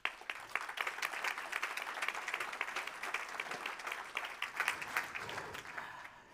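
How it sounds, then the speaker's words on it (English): Audience at a green technology conference stage applauding a speaker's introduction, a dense steady patter of many hands clapping for several seconds before tapering off, fairly faint. "A big round of applause for Jürgen Streitner."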